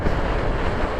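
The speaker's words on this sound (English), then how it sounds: "it's very windy" Strong wind buffets the microphone outdoors, a steady, loud, dense roar of rumbling gusts with no pauses and no voices.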